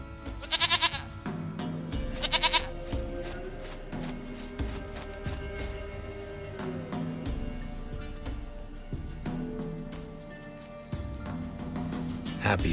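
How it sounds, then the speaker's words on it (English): A goat bleats twice in The Witcher 3: Wild Hunt, short close cries early on, set against game music and ambient sound. "Goat of mine, dearest, sweetest goat."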